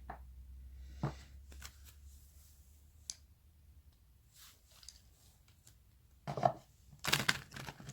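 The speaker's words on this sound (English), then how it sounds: "Let's shuffle your cards." A Heal Yourself reading card deck is shuffled in quiet, scattered bursts of riffling and light clicks, ending with a louder flurry of cards near the end and no speech.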